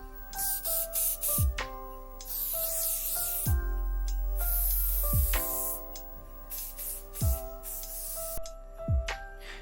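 Repeated bursts of hissing aerosol spray, each a few seconds long with brief pauses between, close and fairly loud.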